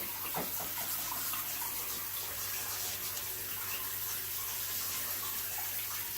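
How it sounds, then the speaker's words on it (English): Potatoes are rinsed under a running kitchen tap, a steady, close gush of water that continues evenly throughout with a low background hum and no talking. "So I'm going to go ahead and give these potatoes a rinse down."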